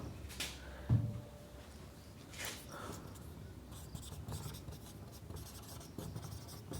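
Marker or chalk scratching across a classroom board during a geography lesson, a few short strokes near the start then a softer, continuous scrawl, fairly close with room noise behind.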